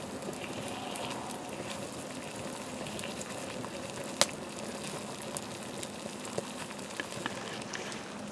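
A pot boils rapidly over an open flame and hot coals, giving a steady, faint hissing bubble with scattered small pops and crackles from the fire.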